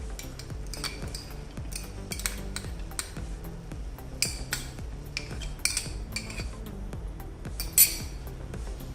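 A spoon clinks and scrapes against a bowl while dressing is mixed into a raw radish salad, a string of light irregular metallic taps, close and fairly quiet, with no talk.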